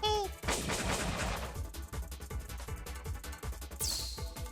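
Cannon blasts and explosions from the video game War of the Human Tanks sound in a rapid, rhythmic burst of booming shots, loud and close, over a game soundtrack, ending with a rising high-pitched whine.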